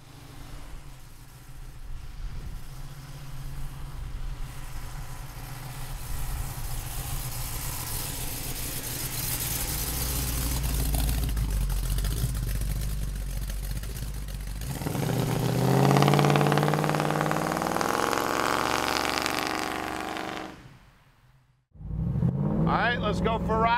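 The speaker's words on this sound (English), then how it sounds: "Man, does the exhaust on this car sound great." A 1972 Chevrolet Chevelle's engine and exhaust under way, a steady throaty drone that swells into a louder rev, drops out briefly, then picks up again.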